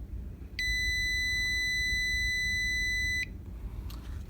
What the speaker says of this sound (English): if I click play sound, the speaker system here will emit a frequency that allows the user to